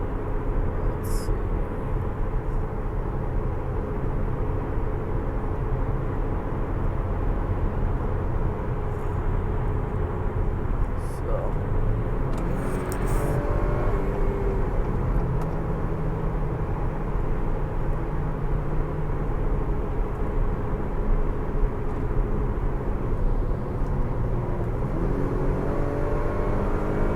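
A 2019 Acura RDX 2.0T with a stage 1 intake accelerates in Sport Plus mode, giving a steady engine drone heard from inside the cabin while the revs slowly climb and hold.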